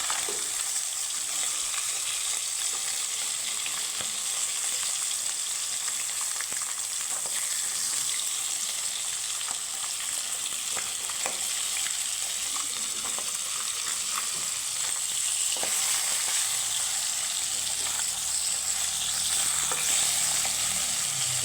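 Pieces of rohu fish sizzle in a pan of hot oil, a dense continuous crackle heard up close, with light stirring clatter and a slight swell toward the end; nobody speaks.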